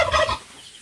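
A short, loud turkey gobble up close in the Mindoro countryside, Philippines, a rapid burst of warbling calls that cuts off abruptly into quiet background.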